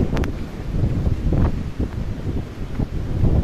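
Strong wind buffets the microphone in continuous roaring gusts, with rustling and a low rumble rising and falling.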